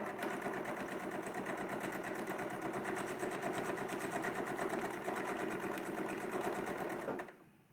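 A sewing machine on a quilting setup stitches quilt pieces in a fast, steady mechanical whirr with a rapid needle rhythm, running evenly up close before stopping abruptly at the end.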